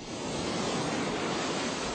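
Ocean waves crash and wash along the shore in a steady, full roar of surf, close and continuous with some wind noise mixed in, and no voices.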